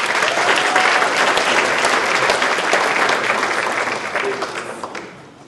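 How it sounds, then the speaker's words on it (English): Steady, loud applause from a banquet audience fills the room, dense clapping that holds strong and then gradually tapers off near the end. "So please give a round of applause for Stacy Cruz, Dean of Student Engagement."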